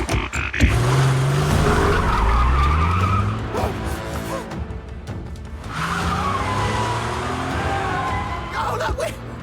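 Tires squeal as a car skids and drives on its own through a car chase in a video game, loud engine roar and repeated screeching sweeps running nearly continuously with a short lull midway.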